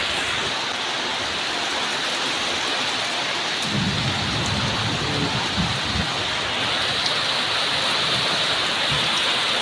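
Heavy rain pours down with wind in a constant, dense roar, with gusty swells and a low rumble rising in the middle.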